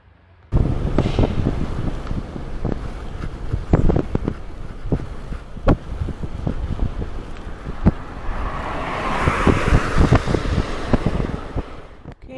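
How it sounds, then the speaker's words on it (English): A folding 400 watt electric bike rides along a main highway. Steady wind rush buffets the microphone for the whole ride, with scattered knocks and road rumble underneath and a brief swell of brighter noise near the end. "here we are out for a little ride along the main highway"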